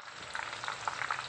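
Okra frying in hot oil for a hotel-style bhindi fry, a steady close sizzle and crackle with brighter spitting pops throughout, no voices.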